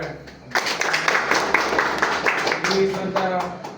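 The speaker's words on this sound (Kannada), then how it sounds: "ಅವರಿಗೆ ಚಪ್ಪಾಳೆ" An audience at a district association meeting bursts into sustained clapping, a dense, close burst of applause that keeps going for a few seconds, with some talk mixed in.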